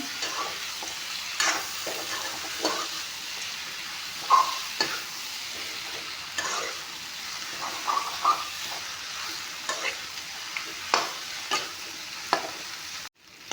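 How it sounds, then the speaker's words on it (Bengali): Goat mutton with potatoes frying in a pan: a soft continuous sizzle broken by repeated scraping stirs, fairly quiet and close, with no talk. "মাংস ভালকৈ ভাজি ল'লোঁ"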